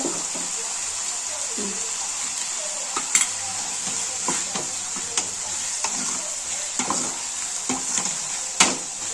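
Masala for mutton gravy frying in a pan, with a steady bright sizzle and scattered scraping clicks of a spoon stirring it, close and continuous with no talking.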